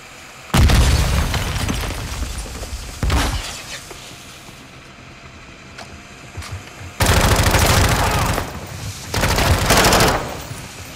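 Heavy explosive blasts from a C4 charge in Call of Duty: Modern Warfare II DMZ, booming bursts that come in several loud waves with a rumbling roar between them.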